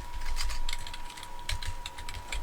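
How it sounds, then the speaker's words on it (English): Rapid keystrokes on a computer keyboard, typing item names into a whitelist field, come as quick clusters of clicks at close range with short pauses between bursts and no voices. "you can just type in what you want"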